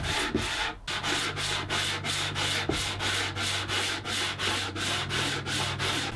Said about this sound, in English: I'm starting out with a nice flat sanding beam with some 120 grit.